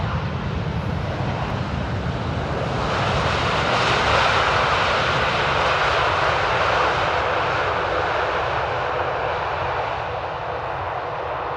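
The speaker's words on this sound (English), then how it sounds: "Oh, that auto land is so buttery good. Little reverse and roll out." An airliner auto-landing at Amsterdam Airport and rolling out with reverse thrust, a loud sustained broadband engine roar swelling mid-way then slowly easing, heard from a distance outdoors with no talking.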